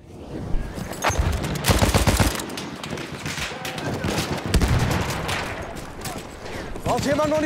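Rapid bursts of automatic and single-shot gunfire from the shooter game Frontlines, loud and close, with overlapping volleys and occasional heavier reports running throughout, with a voice talking over the shooting.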